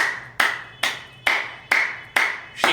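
Hands clap loudly and close by at an even, slow rhythm, six sharp claps each ringing out with a short echo before the next, with no other sound.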